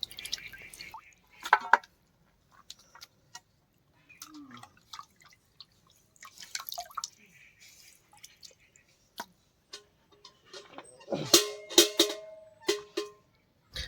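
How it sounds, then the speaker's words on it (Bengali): Raw poultry meat is washed by hand in water, with sparse drips, splashes and squishy handling sounds, close and intermittent, growing busier near the end. "এবার আমরা মাংসগুলোকে ধুয়ে নেব। পোলট্রি মাংস হালকা করে ধুলে হয়ে যায়।"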